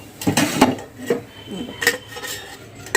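A besan pancake is lifted from a pan onto a plate, making a few close metallic scrapes and clinks of a utensil against cookware, spaced irregularly over a quiet background.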